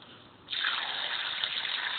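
Water gushes out through the bottom sediment release of a pool filter as it drains, starting suddenly after a quiet moment and then rushing steadily and loudly without pause.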